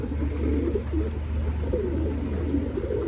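Arab Posta pigeons cooing, soft repeated rolling coos under a steady low hum, close by and without speech.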